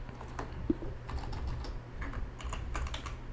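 Keys clatter on a computer keyboard in a quiet room, a rapid close run of light taps with one sharper press, over a low steady hum.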